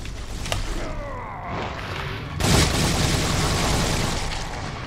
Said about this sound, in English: Pump him with bullets!